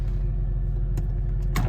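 A 1999 Porsche Carrera cabriolet idles just after a cold start, a smooth, steady low rumble close by, ending with a brief rattle or click.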